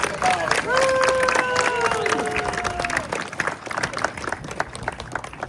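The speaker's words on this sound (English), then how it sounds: "let us all uncork some applause for him" A crowd at a Renaissance fair breaks into sustained applause with scattered cheers and whoops, clapping continuing steadily and tapering slightly toward the end.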